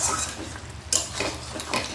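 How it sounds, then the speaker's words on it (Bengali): Mutton curry gets stirred in a pot with a few scraping clinks of a spoon against the metal, close and moderately loud over a soft cooking background. "একটু নেড়ে দেব"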